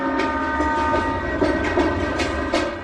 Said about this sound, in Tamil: ட்ரெயின் கிளம்பிடுச்சு கண்ணா, நீ அதை கேட்ச் பண்ண